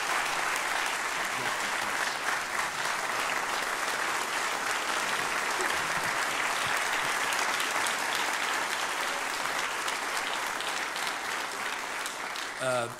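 An audience at a rally applauds a company founder as he is welcomed on stage: dense, sustained clapping from a large crowd fills the whole stretch at an even level.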